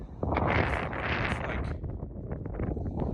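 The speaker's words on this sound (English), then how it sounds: "It's very windy out here." Strong wind buffets the microphone atop an antenna tower in loud, continuous rushing gusts that swell and ease slightly, with no voices.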